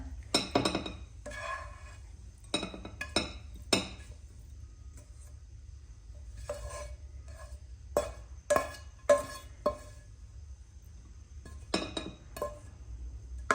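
Dishes and utensils clink as a banana mix is moved into a vessel in a home kitchen, with sparse, light taps and scrapes in irregular clusters against a quiet background and no talking.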